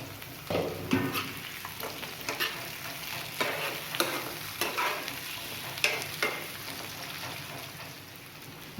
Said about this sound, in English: Cook the onion for about 2 minutes.